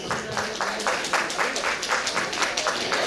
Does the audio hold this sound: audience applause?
yes